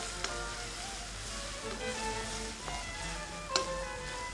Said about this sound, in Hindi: और ये जो हमने गार्लिक काटा है उसको डालें इसके अंदर। और इसको सौते करें इसके अंदर।